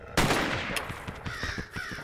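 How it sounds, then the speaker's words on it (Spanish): A crow caws in the survival shooter game ZERO Sievert, with several short harsh calls repeating over a busy game background that includes a sharp burst near the start. "No, se llevó la carne el, el cuervo"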